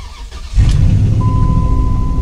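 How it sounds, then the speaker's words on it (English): A 2003 Dodge Ram 1500 engine cranks briefly and catches, then settles into a loud, steady idle with a faint high whine running through it, the start recorded at close range. "Just like that, the truck was running once again"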